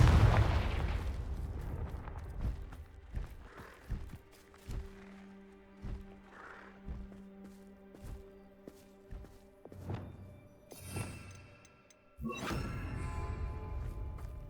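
Booming impacts from a Confringo fire spell in Hogwarts Legacy land among scattered thuds and lighter hits, moderately loud and irregularly spaced, with a louder crash near the end.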